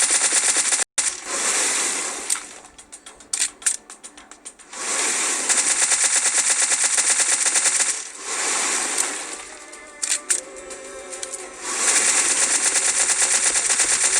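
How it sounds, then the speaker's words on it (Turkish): A Thompson submachine gun fires in PUBG Mobile. Three long, loud bursts of rapid automatic gunfire are separated by quieter gaps with scattered clicks and softer background game sounds. "Thompson'ın mermisi bitene kadar kullanacağım arkadaşlar"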